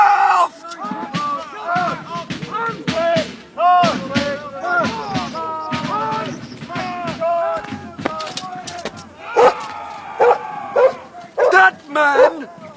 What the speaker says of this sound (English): Corporal, take this dog away and shoot it!